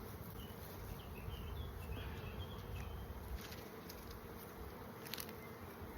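Honeybees buzz steadily during a hive inspection at an apiary, a faint continuous drone of many insects with no talking.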